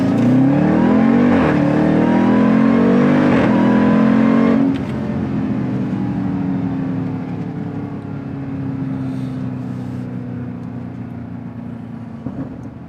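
A supercharged Jeep Grand Cherokee Trackhawk engine with a cold air intake accelerates with a rising supercharger whine, strong and close at first, then settles into a steadier cruising drone.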